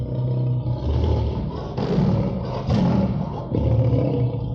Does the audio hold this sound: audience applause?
no